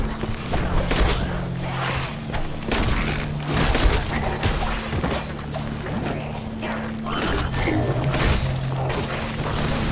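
Repeated gunshots crack out in the side-scrolling video game Tails of Iron 2, sharp bursts scattered irregularly over a busy, rumbling game soundtrack.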